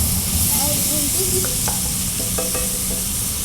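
Food sizzles steadily in a pan while being stirred, with a constant frying hiss and occasional scraping clicks of a utensil, close and fairly loud with no talking.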